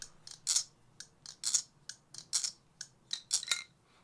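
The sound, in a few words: Machinewise Opus balisong butterfly knife being flipped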